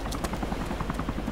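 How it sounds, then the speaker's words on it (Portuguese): A helicopter in the survival game DayZ, heard as a steady, fairly loud whirring rotor chop with a regular pulsing beat, continuous throughout with no talking. "Ó, oh, escutando helicóptero."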